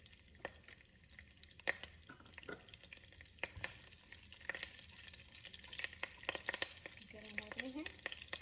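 Curry leaves and cumin seeds dropped into hot oil in a pan on a stove, a faint low sizzle with scattered small crackles and pops, quiet and close, with no talking.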